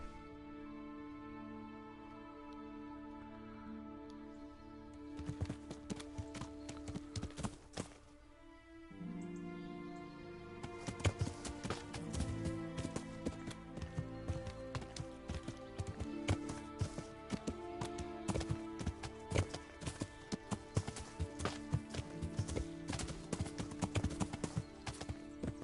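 Horse hooves clip-clopping in Kingdom Come: Deliverance, a steady rhythmic stream of hoofbeats that briefly drops off, then resumes denser and louder over a sustained musical bed.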